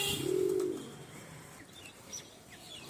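A pigeon in a loft gives one clear low coo up close, followed by quieter distant chirps and faint wing flutters, with no one talking.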